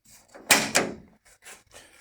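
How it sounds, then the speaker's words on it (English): The door of a Lotus Elan sports car, which has been failing to shut properly, is pushed closed: two quick, close thumps in succession, followed by faint rustling and handling noises. "This door suddenly decided that it didn't want to shut properly."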